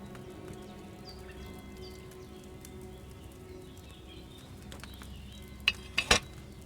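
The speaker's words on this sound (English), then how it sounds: "Hear that bubbling? It's boiling." A potion cauldron in Kingdom Come: Deliverance II boils over a flame, giving a soft, steady bubbling simmer with a few sharper pops near the end and no voices.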